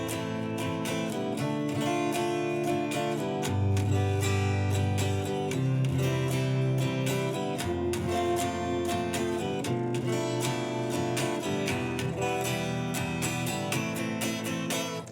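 Open guitar chords ring out in a steady sequence, full strummed voicings changing every few seconds, loud and continuous with no talking.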